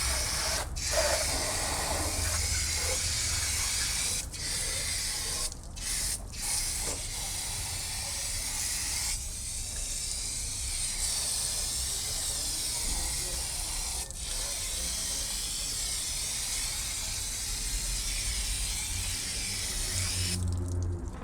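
A Bollinger B1 truck being rinsed with a pressurized water spray, a continuous loud hiss of jetting water with brief dips and shifts as the stream moves across the body.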